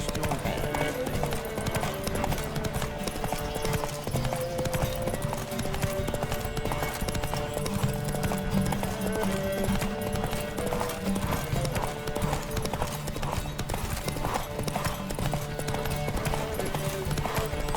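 Rapid clip-clop of several galloping horses in a horse race in The Witcher 3 runs continuously, thick and layered, with occasional shouted voices and a whinny mixed in.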